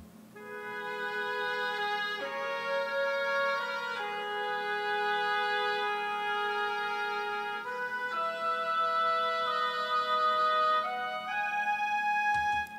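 A pair of oboes blended with a solo oboe play a slow, smooth melodic line together, steady and moderately soft, with sustained notes changing every couple of seconds and no voices.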